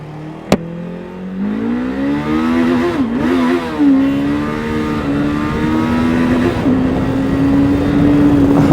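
Kove 525x motorcycle engine revving hard, close and loud, pitch climbing and dipping through gear changes before settling into a steady high drone.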